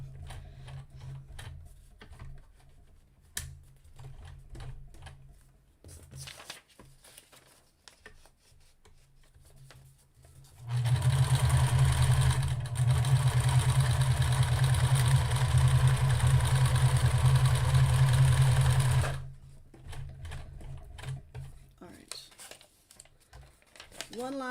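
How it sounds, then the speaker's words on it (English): A new sewing machine runs in one sustained burst of loud, steady mechanical whirring and rapid stitching for about eight seconds, bracketed by quieter stretches of handling clicks, rustling and occasional talking. "Bear with me as I break my new sewing machine."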